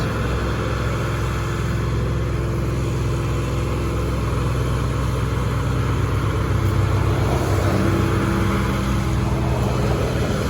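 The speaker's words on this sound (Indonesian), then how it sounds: "1 unit truk Fuso trailer bermuatan peti kemas." Fuso trailer truck hauling a shipping container, its diesel engine droning and rumbling steadily nearby with a rough, snoring tone, continuous throughout with no talk.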